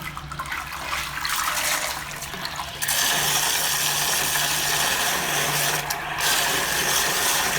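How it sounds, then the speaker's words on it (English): Micro brushless DC water pump running in water, a steady rushing, splashing flow with a low constant hum that grows louder and fuller partway through, close and continuous with no talking. "It's a very powerful micro brushless DC pump."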